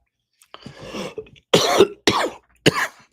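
Several coughs in quick sequence: a softer rough one first, then three sharp, loud hacking coughs close to the listener.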